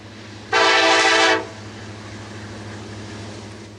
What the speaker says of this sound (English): The 4 locomotives were working fairly hard as the train climbed the hill